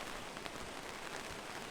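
Steady rain falling outdoors at a fishing spot after a storm, a constant broadband hiss of drops close by with no talk over it.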